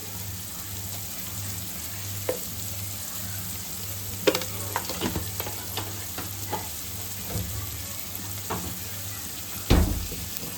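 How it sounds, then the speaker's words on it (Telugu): Onions fry in a pan as they are cooked until browning, with a faint steady sizzle broken by scattered scrapes and clicks of stirring and a louder knock near the end. "అది బ్రౌనిష్ వచ్చే వరకు ఉల్లిగడ్డలు వేపుకోవాలి"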